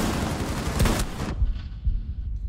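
Gunfire in Rainbow Six Siege: a loud, close burst of rapid shots fills the first second, then a few more single cracks follow over a dull rumble.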